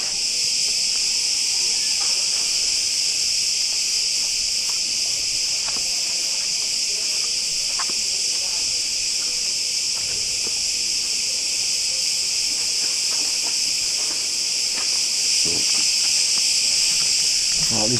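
Insects chirp constantly at the Knossos palace ruins on Crete, a dense, even high-pitched drone that stays loud and close throughout, with faint scattered movement noises beneath.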